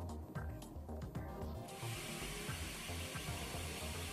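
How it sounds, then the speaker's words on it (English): A 3D printer prints a valve spring compressor tool for a BMW N42/N46 engine, stepper motors whirring and chirping in short repeating tonal bursts under a steady fan hiss, close and without talk. "As you can see, the 3D model of the spring compressor tool is printing."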